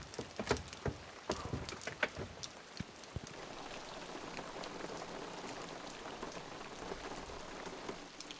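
Steady rain patters on surfaces outdoors on an autumn night in the Pacific Northwest, a soft continuous hiss with a few sharper close drops near the start, no voices.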